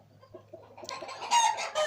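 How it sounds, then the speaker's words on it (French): Two young roosters recently moved into a hutch cluck softly, then break into loud, strained crowing bursts up close, with no voices. "on a 2 jeunes coqs qui sont venus être transférés en clapier"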